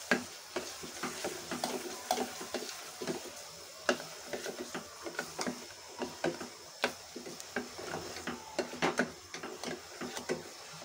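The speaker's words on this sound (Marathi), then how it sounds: "आता मस्तपैकी परतून घेऊ." Spices sauté in oil in a pan for Maharashtrian katachi aamti, a quiet sizzle broken by frequent rhythmic scraping and stirring clicks from a spoon, close by with no talking.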